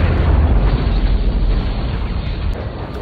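A time bomb blows up in a film scene: a loud, sustained low rumbling blast that holds for about three seconds and then slowly tapers off, with no voices.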